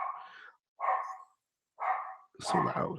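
A dog barks indoors three times in separate bursts, loud and close, with a voice cutting in near the end.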